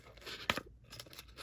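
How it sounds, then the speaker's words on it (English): Scissors snip through packaging during a Masterverse Dark-Lyn figure unboxing, giving one faint, sharp crunching cut followed by soft rustling, quiet and close. "Maybe I should use the scissors."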